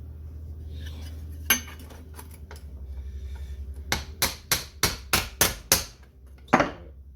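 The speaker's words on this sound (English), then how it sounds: "I've got a range of different dollies and hammers that I can use to" Metal hammer blows ring out on a dolly while reshaping a Porsche 924 rear sill panel, with a few scattered taps followed by a quick run of about seven sharp, bright clanks, close and loud.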